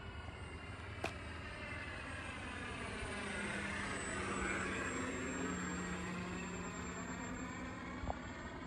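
A Carbon Z T28 scale RC airplane circles around to land, its electric motor a steady whine that swells as it passes overhead and then recedes, heard from some distance outdoors with faint background noise.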